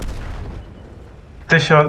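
A single tank cannon shot booms in a tank video game after a quiet stretch, a sharp loud blast followed by a short rumbling tail.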